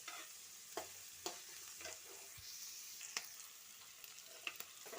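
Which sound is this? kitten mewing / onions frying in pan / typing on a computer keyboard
onions frying in pan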